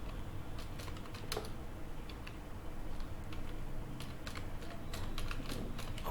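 Continuous typing on a computer keyboard while entering a resume's education section in MS Word: a steady, close run of light key clicks with a few sharper taps, no voices.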